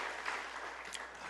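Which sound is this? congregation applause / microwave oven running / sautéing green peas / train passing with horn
congregation applause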